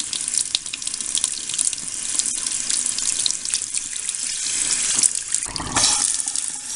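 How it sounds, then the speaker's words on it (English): Warm tap water runs steadily over a Canon Pixma MX922 printhead being rinsed clean of clogged ink, a continuous close splashing stream that briefly shifts tone near the end as the flow hits it differently. "I wash it off with warm water again, cleaning it thoroughly."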